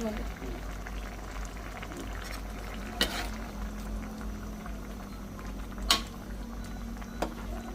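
Curry with curry leaves simmering in a large pot, a steady low bubbling hiss with a few sharp clinks and knocks of utensils against the pot.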